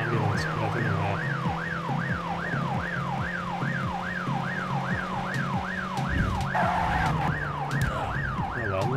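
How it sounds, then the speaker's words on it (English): An ambulance siren in the video game The Getaway wails continuously in a fast rising-and-falling cycle, loud and close, over a low rumble of traffic and engine noise. "Some ambulance, but I don't know where."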